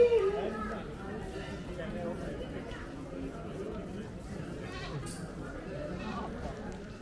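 Goats kept for sacrifice at the Kamakhya temple in India bleat faintly amid a busy crowd, under steady chatter and nearby talking.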